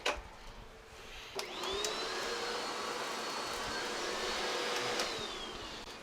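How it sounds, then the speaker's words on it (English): A Clean Obsessed CO888 canister vacuum nozzle runs on carpet, a loud, steady whirring roar that starts after a brief thump and holds to the end, with a slight rise partway through. "So the thing to do with this nozzle when you're done is on carpet, you want to turn it on so it can clean itself out"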